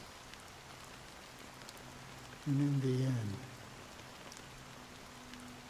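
Rain falls steadily in the Honkai: Star Rail video game, a soft, even hiss that runs through the whole scene, with a voice speaking briefly over it partway through.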